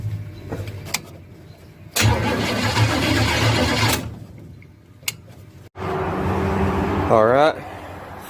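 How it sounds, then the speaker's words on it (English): A 1967 Chevrolet Chevelle cranks and fires in bursts, the first start attempt on its wiring since 1977, with loud broadband engine roars around two to four seconds and again near the end, separated by quieter gaps and a rising whine. "this is an attempt at a first start with the car's wiring for the first time since 1977"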